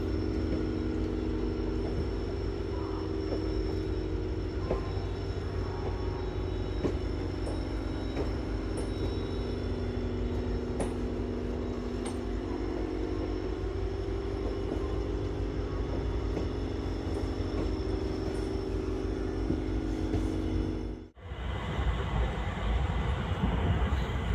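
A passenger train approaching Varanasi, heard from inside a compartment as a loud, steady rumble with rhythmic wheel clatter, broken by a sudden brief dip before the noise resumes.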